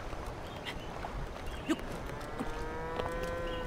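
A cow in the video game Zelda Breath of the Wild gives a drawn-out moo over a busy background of game music and ambient sound, with a few faint clopping sounds.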